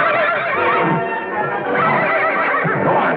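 An unruly horse in a 1955 television western whinnies loudly and continuously, a shrill, quavering neigh that fills the whole moment with no voices over it.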